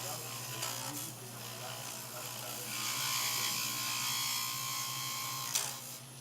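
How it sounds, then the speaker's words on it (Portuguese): A hand tool grinds and shaves down PVC while shaping a domino scoreboard, a steady rasping whir close up that swells midway and runs continuously under faint background hum. "A gente vai desbastando com a própria chave, olha lá, observa, ó."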